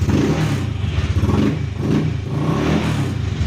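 A Honda Click scooter engine runs close by with a throbbing, uneven idle that keeps dipping and surging, steady and loud with no talk over it.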